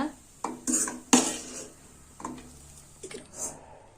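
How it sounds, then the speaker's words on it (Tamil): Cooked carrot kheer mixture is scooped from a kadai into a bowl, with several sharp clinks and scrapes of a spoon against metal and dishware, close by and separated by short quiet gaps. "இப்போ இதை எடுத்து ஒரு பவுலுக்கு சர்வ் பண்ணிடலாம்"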